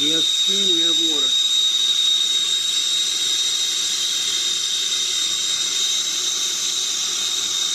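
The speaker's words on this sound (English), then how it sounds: "We have steam, we have water." A steady, close hiss of steam from a torch-heated toilet valve fills the whole stretch, with a brief burst of speech at the start.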